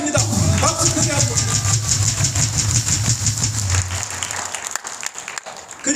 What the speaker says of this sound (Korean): 박수 크게 한번.